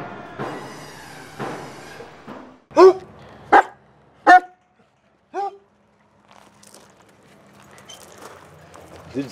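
A basset hound lets out several loud, separate barks near the microphone, spaced a second or so apart, with someone speaking briefly before and between them.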